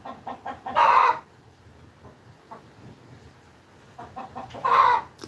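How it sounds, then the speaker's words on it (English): A hen clucks outdoors in two loud bursts of rapid clucking several seconds apart, with softer clucks and faint background noise in between. "There is a hen that is really disturbing us"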